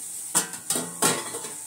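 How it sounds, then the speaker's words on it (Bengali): Soybean chunks being stirred and sautéed dry in a pan, with three distinct scraping clinks of a utensil against metal over a faint background, close and brief. "আর একটু কষবে, আর একটু কষে নি, দেখা যাক"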